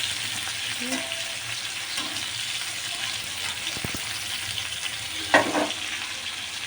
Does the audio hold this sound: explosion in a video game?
no